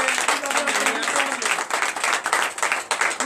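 Loud, dense applause fills a church congregation during a night of deliverance and prophecy service. It sounds steady and close throughout, with no speech over it.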